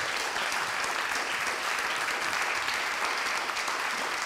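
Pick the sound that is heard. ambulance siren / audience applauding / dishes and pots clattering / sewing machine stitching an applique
audience applauding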